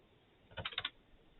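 A brief, quiet burst of computer keyboard typing, five or six quick keystrokes clicking in a row before falling silent.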